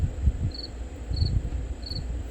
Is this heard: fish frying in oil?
no